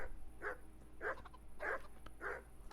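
In the Kingdom Come: Deliverance video game, dogs bark four times at an even pace, muffled and moderately distant, over a constant low background hum.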